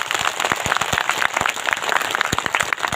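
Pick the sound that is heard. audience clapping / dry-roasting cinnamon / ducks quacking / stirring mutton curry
audience clapping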